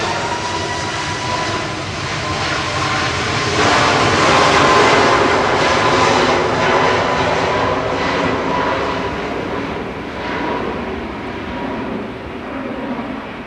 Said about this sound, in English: Sun Express off to Dalaman, TC SMD with flight 3505